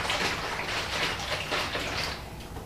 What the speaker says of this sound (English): And pour it into a cup.